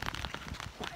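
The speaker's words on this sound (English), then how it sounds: "It's literally so gross and rainy." Steady rain falls outside on a gross, wet winter day, a dense broadband patter of drops striking surfaces that continues evenly and close throughout, with no talk over it.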